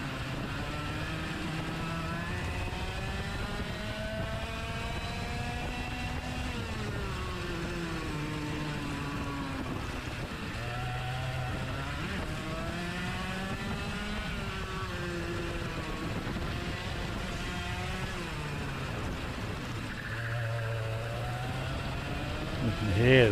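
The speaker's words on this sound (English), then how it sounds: "You can hear the tyres struggling for grip" Racing kart engines in a Junior X30 sprint race at Fulbeck whine steadily throughout, their pitch sweeping up and down through corners with tyres scrabbling for grip, while commentary talk runs over the top.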